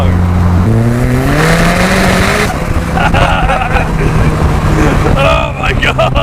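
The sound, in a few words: turbocharged Mazda MX-5 accelerating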